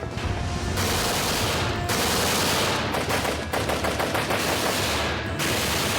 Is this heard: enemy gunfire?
yes